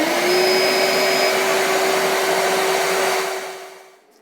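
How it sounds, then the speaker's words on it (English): A shop vac runs on an off-grid battery inverter, a loud steady whine with a strong drone that holds and then fades out as it switches off. "let's go ahead and click on our shop vac."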